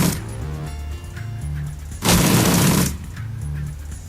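A burst of gunfire in the video game Shadowrun Returns: Dragonfall, a loud, dense volley lasting almost a second, with a low looping game-music drone before and after.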